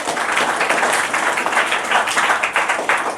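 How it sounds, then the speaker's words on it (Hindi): An audience at a Teachers' Day celebration applauds the teachers, a steady, dense wash of clapping from many hands that holds loud and even for the whole stretch. "सभी शिक्षकों के लिए एक बार और जोरदार ताली बजाया जाए।"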